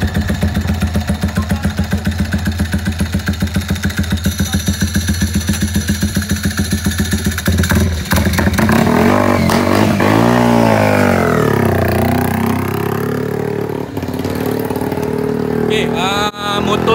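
Yamaha R15 motorcycle fitted with a dry clutch idling with a rapid, lumpy pulse, then revved hard several times, pitch sweeping up and down, loud and close.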